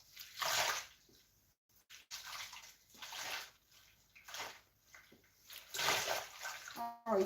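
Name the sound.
dipping and washing something in water with shampoo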